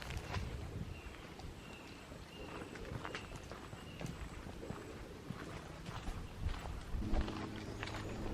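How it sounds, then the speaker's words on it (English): Horses walking along a trail at Paynes Prairie Preserve State Park, irregular soft hoof clops at a moderate distance over a light breeze. "Beautiful horses."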